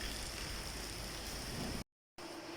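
Rain falls steadily outdoors on an evening, heard as a constant dense hiss that cuts out briefly near the end and then returns, with no talking.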